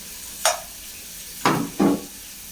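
Onions and garlic sauté in a pan for fish curry: three short, sharp scraping stirs come over a faint, steady sizzle, close and with no talking.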